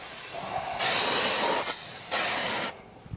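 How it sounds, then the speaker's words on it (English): Two long hissing bursts of aerosol spray coat a Toyota RAV4 brake assembly during a brake pad job, each lasting well over a second, close and loud against a quiet garage. "we will go ahead and spray this all down in case we had any fingerprints or anything"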